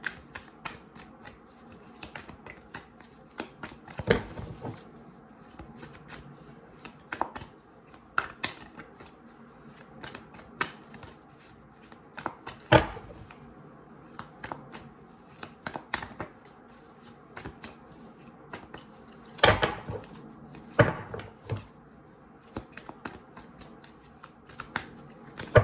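Tarot cards are shuffled again and again in quick papery riffles and soft taps, close by and fairly quiet, with brief gaps between bursts.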